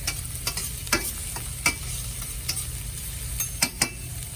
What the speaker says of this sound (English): So first we have our skillet going. We're going to put in our red onions and garlic. Swish it around a little bit.